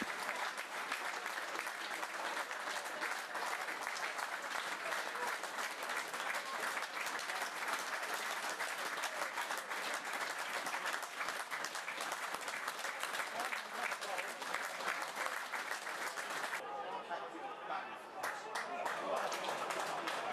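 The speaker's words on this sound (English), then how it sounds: "the 1 minute applause in memory of ex-RDFC goalkeeper Del Roberts on the anniversary of his passing" A non-league football crowd at a home match gives a one-minute applause in memory of a former goalkeeper, steady continuous clapping from many hands, fairly distant, with a few scattered voices.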